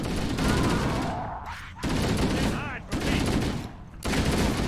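Rapid, loud bursts of automatic gunfire from the Halo video game fill the clip in three dense volleys separated by brief gaps.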